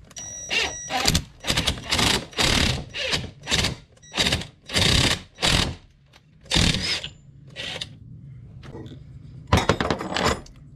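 Press-fitting new BDS suspension bushings into a shock mount using supplied washers, heard as a series of roughly a dozen loud, close metallic thunks and clanks in rapid rhythm, with short pauses near the end.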